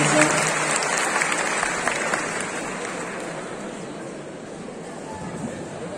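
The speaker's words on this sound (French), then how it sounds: "On applaudit encore une fois bien fort Harry Skin Sylvestre de League of Legends." Sustained applause from a large audience at a cosplay contest in Nantes, steady dense clapping throughout, fading slightly toward the end.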